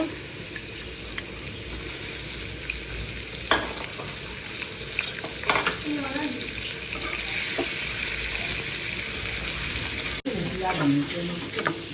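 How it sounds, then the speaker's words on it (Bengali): Shrimp sizzling and frying in a pan of hot oil, with a steady crackling hiss, occasional stirring scrapes and a brief sharp clatter near the end. "তারপরে চিংড়ি মাছটা ছেড়ে দিলাম, এটা আমি হালকাভাবে ভেজে নিব।"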